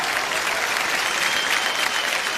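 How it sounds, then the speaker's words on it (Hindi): Loud, dense applause from an audience at an awards function, a steady wash of clapping from many hands that lasts the whole moment. "तो जियो के लिए एक बार जोरदार तालियां हो जाएं।"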